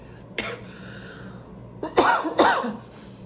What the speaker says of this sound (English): Right when I said that, I coughed.